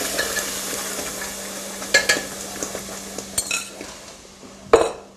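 Vegetarian ingredients sizzle steadily in a hot saucepan while a utensil stirs and clinks against the pan now and then, close and fairly quiet.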